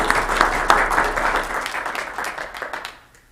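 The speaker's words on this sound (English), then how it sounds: "One more round of applause for John." Audience applause for John at a county commission meeting, a short burst of clapping from a modest crowd that starts full and fades away over a few seconds.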